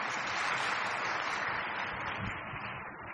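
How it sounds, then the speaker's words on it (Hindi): An audience at a Hindi spiritual talk claps together in a steady, dense wash of applause that holds throughout and tapers slightly at the end, heard from within the hall with no voices over it. "वाह, शाबाश, ताली बजाओ।"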